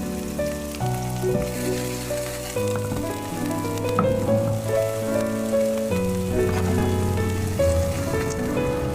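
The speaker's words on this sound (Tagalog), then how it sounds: "Karito natin yung oil. Pero ilalagay ko muna ito sibuyas at saka garlic." Onions and garlic frying in hot oil while chicken with vegetables is cooked at home: a close, dense sizzle and crackle running throughout, with music playing underneath and no talking.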